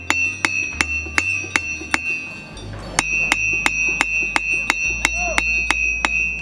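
A blacksmith hammers steel heated to 800–900 degrees at a forge during a festival, with steady, evenly spaced ringing metallic strikes close by, roughly two to three per second over a low background rumble.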